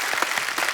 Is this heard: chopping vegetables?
no